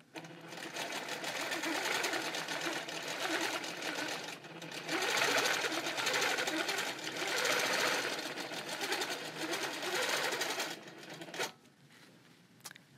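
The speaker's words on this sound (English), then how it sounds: "make sure you stop the machine when you need to change your hand position" Sewing machine running steadily, a loud continuous mechanical whir with small shifts in speed, as a quilting design is stitched along a ruler; the machine stops near the end, leaving quiet.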